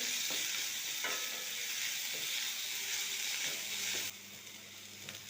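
Vegetables frying in a pan while being stirred, a continuous hissing sizzle with a few spoon knocks and scrapes; the sizzle drops abruptly quieter near the end, with no talking.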